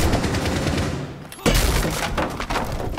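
Rapid gunshots in Rainbow Six Siege, a tactical shooter, with loud close bursts of automatic fire, a short sharp break, then renewed heavy firing with thumping impacts.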